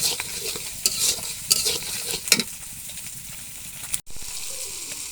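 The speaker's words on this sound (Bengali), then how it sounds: "আর একটু দেবো মরিচের গুঁড়ো মশলাটা কষাই নেব" Spice paste with chili powder stir-fried in a pan for vegetable khichuri: a steady close sizzle with sharp scraping stirs in quick bursts, a brief cutoff near the end, then the frying carries on.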